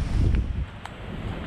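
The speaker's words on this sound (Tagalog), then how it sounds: "Lakas ang hangin, eh." Strong wind blowing outdoors on a coastal fishing trip, a rough, gusty rumble that is loudest at the start and eases slightly, with faint brief rustles on top and no speech.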